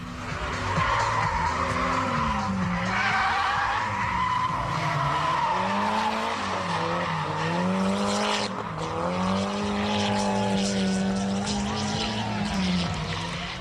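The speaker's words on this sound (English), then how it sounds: "The 180SX understeers into turn 1, giving the advantage to Simon Mickelmore in the AE86" Drift cars, a Nissan 180SX and a Toyota AE86, battle through a corner at a drift event at Calder, with loud sustained tire squeal and skidding over revving engines that rise and fall continuously.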